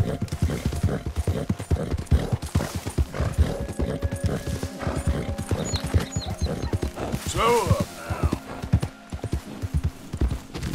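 A horse gallops in Red Dead Redemption 2, its hoofbeats a steady rapid clip-clop close up, with a brief whinny partway through while someone talks over it in German.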